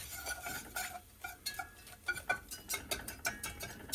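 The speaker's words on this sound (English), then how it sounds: "add in my flour, which is the 1/4 cup. And I'm just going to give it a little stir around." Flour is stirred into onions cooking in a soup pot for broccoli and cheese soup, giving a few soft scrapes and light clinks of a spoon against the pot, fairly quiet and irregular, with no talking.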